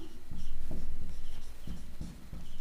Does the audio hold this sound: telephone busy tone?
no